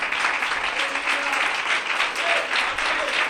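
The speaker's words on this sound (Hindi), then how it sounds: "जोरदार तालियां बजाएं भाई के लिए" An audience at a Christian faith gathering bursts into vigorous applause, a steady, close wall of clapping with faint voices underneath, lasting the whole stretch.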